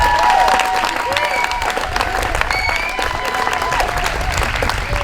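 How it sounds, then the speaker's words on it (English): Sustained audience applause at a Juneteenth community celebration, dense steady clapping from a large crowd filling the whole stretch, with faint voices and cheers mixed in. "let's please give a tremendous round of applause to these women who made this"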